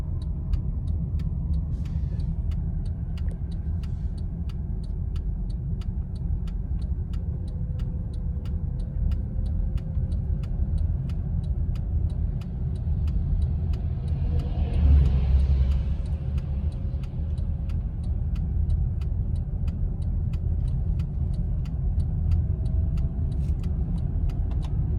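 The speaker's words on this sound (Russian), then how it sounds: "Сзади Нива чуть не въехала. Затормозила прям." Lada Niva braking hard behind a car on a slippery snowy road in a blizzard: a brief rushing skid burst midway through, over steady low engine and road rumble heard from inside a vehicle.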